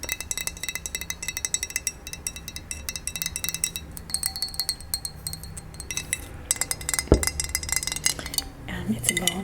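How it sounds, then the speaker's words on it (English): Glass Ball mason jar filled with dish soap being handled, giving light clinks and taps of glass against surfaces, with soft scraping and rustling throughout and one sharper knock near the end, close and quiet. "This is a jar of just dish soap."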